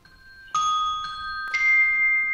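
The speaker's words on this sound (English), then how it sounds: "We have, the Celesta, which are the bells you hear a lot." Orchestral soundtrack bells, celesta and glockenspiel, strike three clear chiming notes in turn, each a bright ring with a sharp attack and a sustained shimmering decay, heard close with no voices.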